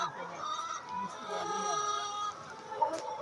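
Hens cluck and murmur on an egg-laying poultry farm, with soft overlapping calls from several birds close by and a few sharper clucks, while a person talks under them.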